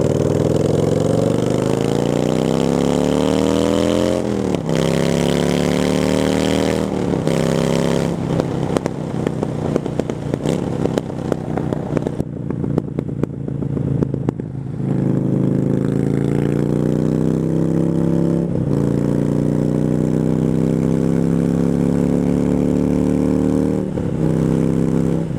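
Motorcycle engine on a GS-based chopper running loud and close with a steady uneven idle, repeatedly revving up and dropping back, broken by sharp popping backfires from an exhaust suspected of leaking at the manifold gasket.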